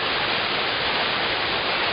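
Shypit waterfall in Ukraine, about 20 metres high, in February: a steady, dense roar of falling water, constant and close, with no voices.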